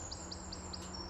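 Small birds in a UK woodland give four short, high chirps at an even pace, faint and somewhat distant over a steady low background hum.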